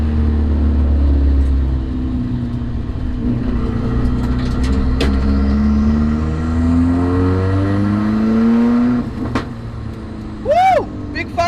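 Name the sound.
car engine revving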